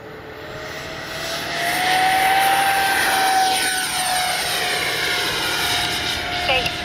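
A Freewing F-14A Tomcat RC jet with twin 64mm ducted fans flies past. Its loud, steady whine swells as it approaches, shifts pitch as it passes and then holds a strong roar.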